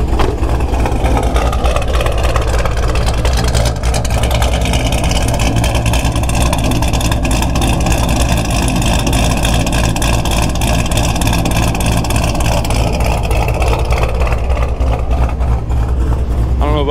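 Supercharged LS V8 in a 2012 Chevrolet Camaro ZL1 with a big cam, idling loudly with a deep, choppy, uneven lope heard close from behind the car, steady throughout.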